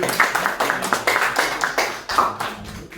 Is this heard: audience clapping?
yes